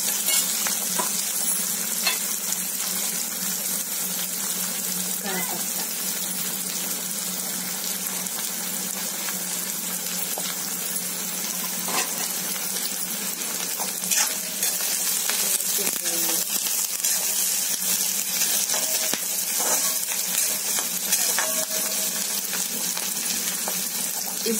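Chopped onions fry in a pan for homemade bean chokha, a steady close sizzle running throughout with light scraping as they are stirred.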